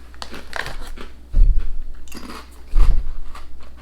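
Two crisp bites into a crunchy caramel garlic snack from Thailand, each followed by close, crackly chewing, with the second crunch about a second and a half after the first.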